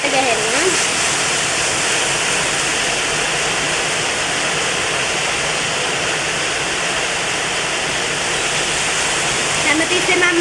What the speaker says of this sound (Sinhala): ඉතින් අපි මේකට කලවම් කර කර තමයි වතුර දාන්න